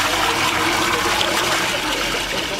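Water drains and swirls steadily from a basin in a Coriolis demonstration in Quito, a continuous close rushing gurgle with no pauses and no talk.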